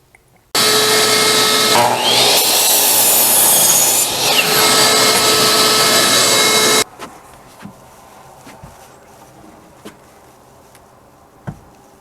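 A power saw cuts an angle across a wooden rafter, a loud, steady whining buzz lasting about six seconds before it stops. Quieter knocks and handling of the wood follow.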